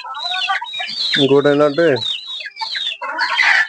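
Native country chickens clucking in a shed, with a run of close, rhythmic hen calls in the middle and scattered higher squawks around it, while someone talks briefly between the bird sounds.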